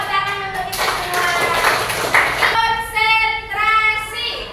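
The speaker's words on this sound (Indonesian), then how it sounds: "Tepuk tangan untuk kita semua" Audience applause at a teacher-training session in Semarang, a broad wash of clapping that swells and stays steady for several seconds, with a prominent harmonic voice or music tone running alongside it.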